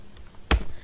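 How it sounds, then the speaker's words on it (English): Keystrokes on a computer keyboard during a typing practice exercise, a brief cluster of clicks with one louder tap midway, close and alone without talk. "See how I am typing, how it is going."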